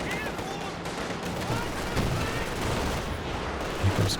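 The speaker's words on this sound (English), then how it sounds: "Here comes Katyusha barrage, I think, onto the pack." Katyusha rocket barrage in a multiplayer strategy game match, a dense rumbling stream of rapid blasts and crackling impacts rolling continuously, loud and close, with a commentator talking over it.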